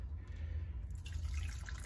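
Melted canna butter poured into a bowl, a faint, soft liquid trickle and drip close by, steady throughout the short stretch with a low background hum and no talking.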